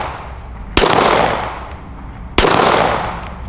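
Two sharp, loud gunshots from a 9mm double-stack 1911 pistol, spaced about a second and a half apart, each followed by a short ringing decay outdoors.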